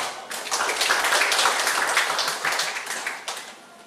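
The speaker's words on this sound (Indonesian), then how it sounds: "Tepuk tangan." Crowd applause at a Karang Taruna youth organization inauguration ceremony in Dondong village: dense, steady clapping from many hands that swells, holds for a few seconds and then tapers off, with no voices over it.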